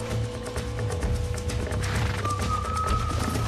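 Horse hooves clip-clop steadily at a run in the Red Dead Redemption video game, with a whinny rising near the end over a continuous game soundscape.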